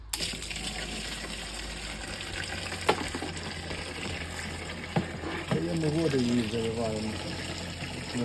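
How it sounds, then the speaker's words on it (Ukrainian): Water gushes steadily into a garden sprayer close by, a continuous pouring rush, with a voice speaking briefly over it near the end. "Це все заливаємо тоді в наш оприскувач воду."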